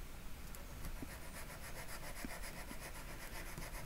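A pastel pencil rubs back and forth on very fine sandpaper to sharpen its point, a close, soft rhythmic rasping repeated in even strokes with no voice.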